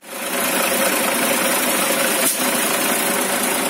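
Tractor engine running on a city street, a loud, dense, steady mechanical roar close to the microphone, sustained without pause for the whole stretch and no voices.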